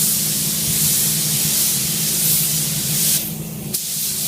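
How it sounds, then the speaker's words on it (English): An airbrush hisses steadily, laying down a light, transparent coat of Killer Grunge FX paint; the spray is loud and close, broken briefly by a short pause and a click near the end. "And then I'll just spray again. Another light layer."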